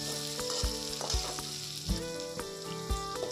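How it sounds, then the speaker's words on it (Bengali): Onions and green chillies frying in a wok, a steady loud sizzle with the spatula scraping and knocking the pan in a regular rhythm about every half second. "একটু ভালো করে খুন্তি দিয়ে নাড়াচাড়া করে একটু পেঁয়াজটাকে লাল লাল করে ভেজে নেব।"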